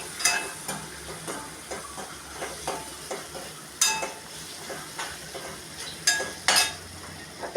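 Spices with turmeric and coriander powder stirred in a hot pan, soft sizzling under repeated scraping and clinking strokes of a spoon against the metal, close up and with no talk.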